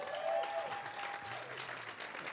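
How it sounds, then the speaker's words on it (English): An audience claps at a Latino Heritage Month illumination event, a soft, steady patter of many hands heard from a distance, with faint voices underneath. "You guys can clap right there."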